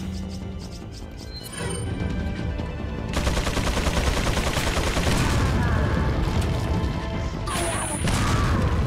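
Gunfire in the Resident Evil 4 video game, loud rapid shots and crashing impacts building into a dense, continuous barrage, with brief talk underneath.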